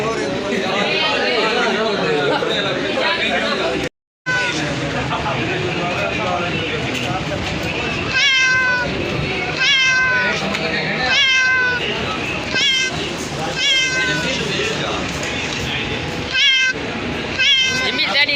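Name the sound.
cat meowing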